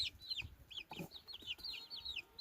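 Chickens, including guinea fowl, cluck and chirp repeatedly in rapid, high, overlapping calls, moderately close but fairly quiet, with faint background noise outdoors.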